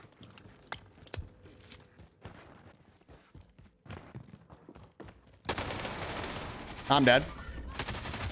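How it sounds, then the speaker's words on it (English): Bursts of an Owen gun fire in a video game, with scattered sparse shots early, then a dense, loud rapid-fire stretch in the second half, and a voice speaking briefly. "this Owen gun just hits so fast and hard"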